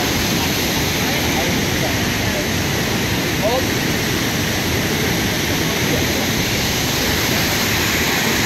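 Minnehaha Falls roars from up close, a dense, steady, loud rush of falling water with no break or change across the whole stretch.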